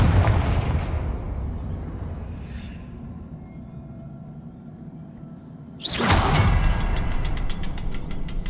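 A Confringo fire spell from the Hogwarts Legacy video game bursts in with a sudden loud blast over a low rumbling game background, followed by crackling, sizzling fire noise.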